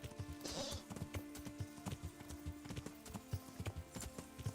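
Horse hooves clip-clop in a steady, uneven trot inside a video game, fairly close, with a brief whinny early on and no talk over it.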